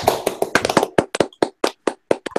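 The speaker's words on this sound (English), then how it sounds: "That deserves a round of applause." A short burst of hand claps, quick and dense at first, then slowing into separate sharp claps, close and fairly loud.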